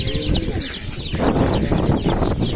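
Chickens cluck and squawk in overlapping bursts at a busy Sakarya poultry market, close and fairly loud over a steady crowd murmur.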